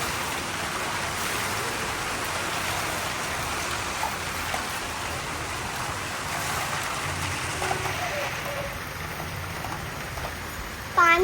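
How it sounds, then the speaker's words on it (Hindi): Steady afternoon rain falls outside a home in a continuous broadband hiss, moderately loud and unchanging, with a few faint clinks and a brief louder knock near the end. "दोपहर से ही दोस्तों बारिश शुरू हो गई थी"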